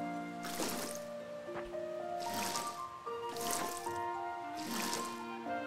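Watering can pouring over crops in the Fae Farm video game, four separate splashing bursts of water at an even pace, each one bright and brief over a soft musical background.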